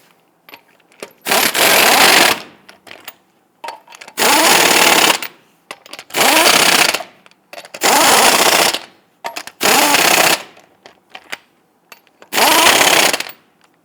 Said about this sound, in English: Let's go ahead and install our lug nuts.